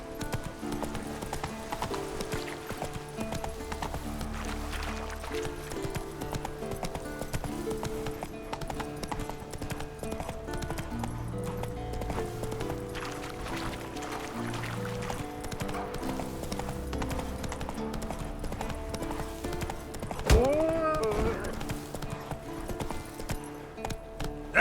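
In the Witcher 3 video game, the horse Roach gallops with steady, rhythmic hoof clip-clops against a game music bed, and a whinny sounds near the end.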